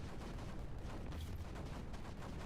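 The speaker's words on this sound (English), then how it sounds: "Cannons? I think cannons." Cannon fire in a wave-based video game: a dense, continuous rumble of booming low-end blasts that rolls on without a break, loud and close, with no talk over it.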